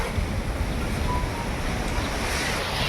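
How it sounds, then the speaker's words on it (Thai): Strong gusting wind roars steadily at a building site where exterior tiles are being laid, a loud, unbroken broadband rush that sounds like surf, with no voices over it. "ลมมาอีกแล้วพี่น้องเอ้ยโอ้โหเกือบ พายุเข้าแล้วบัดนี้"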